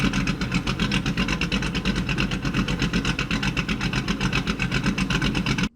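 A Camaro Z28 V8 engine idles steadily between 500 and 600 rpm, fairly loud, with a fast, even pulsing throb, then cuts off abruptly at the end.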